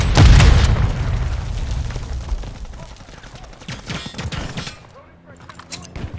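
A sticky grenade detonates with a loud, close boom at the start in Call of Duty MW3, followed by scattered rapid gunfire and crackling that trails off, then a few sharper shots near the end.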